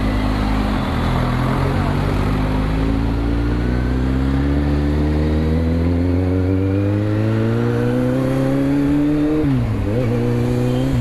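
A Kawasaki Z900 sports motorcycle under way, its engine droning loud and close, pitch climbing steadily as it accelerates, dipping briefly near the end before rising again.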